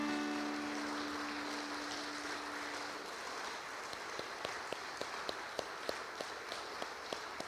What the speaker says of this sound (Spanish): Un aplauso a tu Dios.